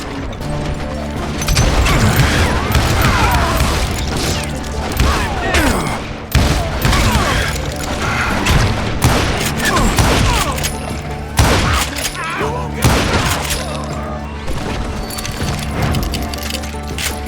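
Relentless gunfire and explosions in the video game Call of Juarez: Gunslinger, loud and close, with rapid overlapping shots, crashes and booms packed densely across the whole stretch with barely a break.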